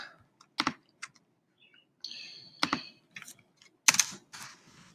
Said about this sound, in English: and now I'll type.